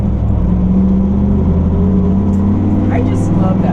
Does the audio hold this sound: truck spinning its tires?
yes